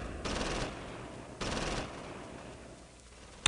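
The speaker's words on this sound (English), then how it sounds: "Let's just try shooting them." Soldiers open up with gunfire in the WWII strategy game Close Combat Normandy. Two short, fairly quiet bursts of rapid fire are separated by a pause, and a sharp click comes at the end.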